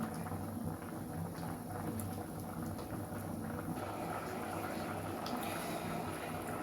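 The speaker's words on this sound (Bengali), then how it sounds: "ধীরে ধীরে ডালটা গরম হচ্ছে, বয়েল করার জন্য রেডি হচ্ছে" A pot of dal with lentils heating toward a boil on a stove, a soft continuous bubbling and simmering hiss, steady and close, with faint clicks and a voice speaking quietly over it.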